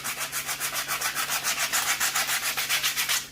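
Wood is sanded smooth by hand to take off splinters, a steady rhythmic rasp of about a dozen strokes back and forth, close and fairly loud, with no talking.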